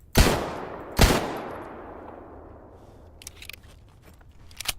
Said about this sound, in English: We need to do a bit of killing, a bit of shooting.